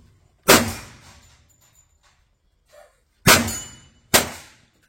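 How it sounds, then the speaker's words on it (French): Three loud metallic clangs of spent ammunition cartridges from a Ruger Super Redhawk .44 Magnum revolver dropping onto a hard surface, each ringing briefly and decaying, with a faint small tick between the first and second. "Mes munitions, là, 3 qui tombent"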